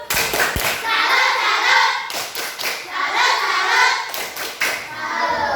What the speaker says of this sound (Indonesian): tepuk salut dulu kelompok 3